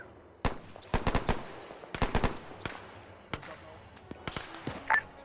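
Sharp bursts and single cracks of gunfire in an Arma 3 World War II battle around a town, some in quick clusters, some spaced apart, at mid distance.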